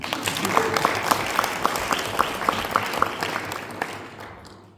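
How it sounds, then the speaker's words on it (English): An audience at an alumni summit in Skopje breaks into steady applause, a full wash of clapping with a few louder claps standing out, fading near the end. "Applause, guys."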